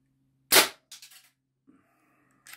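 A single quiet shot from an Artemis CP2M CO2 4.5 mm air pistol fitted with a moderator: one short, soft snapping pop followed by faint mechanical clicks, close and alone in a quiet room.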